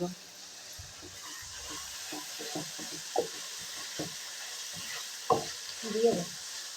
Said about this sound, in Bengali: মশলা কষানো মোটামুটি শেষ